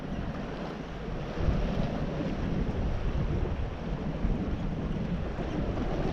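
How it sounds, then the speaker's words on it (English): Strong wind buffets the microphone in a steady, loud roar on a windy stretch of a cycle tour along Scotland's Great Glen Way, with no voices heard. "It's quite windy where you are."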